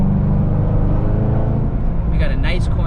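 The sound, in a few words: Corvette Z06 driving on a wet road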